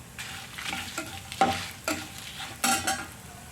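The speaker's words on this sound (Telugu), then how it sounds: "అలాగే జీలకర్ర ధనియాలు వేసి ఒకసారి వేపున ఎండుమిర్చి కూడా వేసి వేపుకుందాం" Cumin, coriander seeds and dried red chillies fry in a pan, a soft sizzle broken by several quick scrapes of a spoon stirring them, heard faintly and close with no voices.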